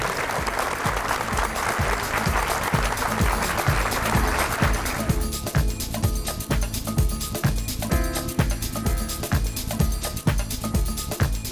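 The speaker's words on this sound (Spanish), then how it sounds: "aplaudamos a un ministro de un país que queremos que sea un poco más parecido a esto" An audience applauds a minister at a science event, steady dense clapping that thins after a few seconds while rhythmic music continues beneath.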